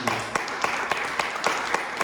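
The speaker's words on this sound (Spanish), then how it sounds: "Denle un aplauso, por favor, a Jesús." A church congregation claps in a brief burst of rhythmic, moderately loud handclaps, evenly spaced beats over a soft background murmur.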